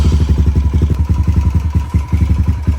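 A Kawasaki KLX140 dirt bike engine with a freshly cleaned carburetor runs close and loud, idling in a fast, steady, evenly pulsing putter with no voices over it.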